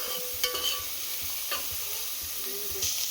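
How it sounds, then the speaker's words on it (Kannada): Onions with green and dry chillies frying in oil for chicken biryani, a continuous hiss of sizzling with soft, regular stirring knocks. "ಈಗ ಈರುಳ್ಳಿ ಎಲ್ಲ ಚೆನ್ನಾಗಿ ಫ್ರೈ ಆಗ್ತಾಯಿದೆ."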